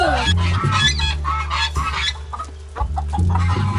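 Chickens cluck loudly and steadily inside a chicken coop, several birds close by with overlapping rhythmic calls and no talking.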